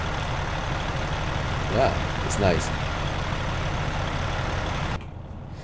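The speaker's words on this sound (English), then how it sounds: "The truck is kind of quiet." An International LoneStar truck driven in American Truck Simulator: a steady low engine drone runs throughout, with a brief voice over it and a couple of short tonal swells in the middle, before the level suddenly drops near the end.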